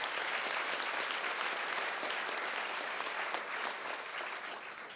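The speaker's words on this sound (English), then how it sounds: "she deserves a big round of applause for that" Applause at a panel event on women seeking clergy equality, a soft, even wash of many hands clapping at a distance that gradually tapers off.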